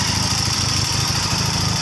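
A 1979 Triumph Bonneville T140 D Special motorcycle engine idles at around 1500 rpm, a steady loud close-up throbbing with an even rhythmic pulse and no pauses.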